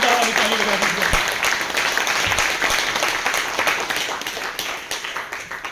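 Enthusiastic applause fills a hall as an audience claps loudly and steadily throughout, a dense wash of hands that fades slightly toward the end.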